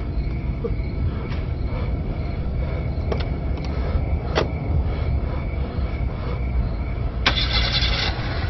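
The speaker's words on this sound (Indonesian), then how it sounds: "John sedang menyalakan mobil polisi miliknya" Police car engine cranking over and idling in a horror video game set at a police apartment, a steady mechanical rumble with a few faint clicks and a brighter burst near the end.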